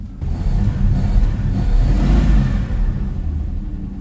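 A Dodge Dart's engine runs steadily up close as the car is parked, a continuous low rumble with mild revving swells and no pauses.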